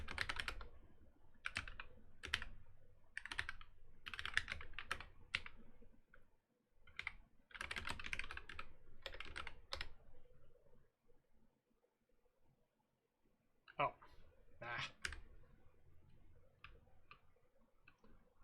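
Typing on a computer keyboard in bursts of quick, close clicking keystrokes separated by short pauses, with a longer gap before a final flurry.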